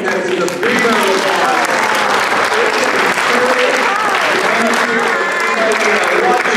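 A crowd applauding contestants at a Newlywed Game show, loud sustained clapping and cheering over people talking throughout.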